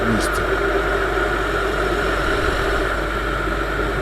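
A tuned Viper 200 motorcycle engine runs on a road with a steady, loud drone and rumble, as if heard from on board, alongside broadband wind noise.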